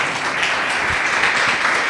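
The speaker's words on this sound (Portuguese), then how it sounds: "Louve ao Senhor com as suas palmas." A church congregation claps in praise, a dense, steady wash of hands that holds at an even level without voices.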